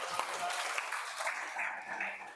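Classroom applause from teachers and participants at a training session, a broad steady patter of hands clapping for a couple of seconds with a few voices mixed in.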